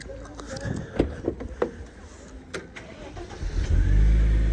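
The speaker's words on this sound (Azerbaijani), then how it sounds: "Maşının bir dənə işləməyinə fikir verin. Arı vızıldayır elə bil." A 124-model car engine runs at a low, steady idle, with a few sharp clicks and knocks over it and a deeper rumble building near the end.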